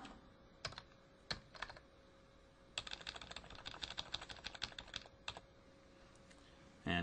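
Bursts of typing on a computer keyboard, separate key taps at first and then a fast run of clicks, quiet and close, with a faint steady hum beneath.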